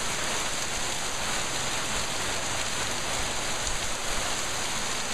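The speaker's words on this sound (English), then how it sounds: "This is a real tropical rain shower here" A heavy tropical rain shower in warm weather, a dense, constant roar of rain pouring down on surfaces, loud and unbroken from start to finish with no voices.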